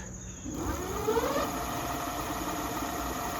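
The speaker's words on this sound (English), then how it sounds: "Let me lift up the rear wheel and see how fast it goes just from standing here." Hub motor of a Kingbull Literider 750W 48V folding fat-tire electric bike spinning the lifted rear wheel, a steady whirring hum that rises in pitch as it spins up, then holds even and close without speech.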